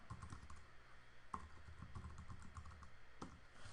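Rapid keystrokes on a computer keyboard as a place name is entered into a custom Google Map, a steady run of light clicks with a couple of sharper taps, close and alone without speech.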